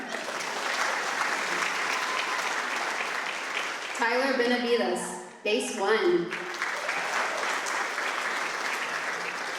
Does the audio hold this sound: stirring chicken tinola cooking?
no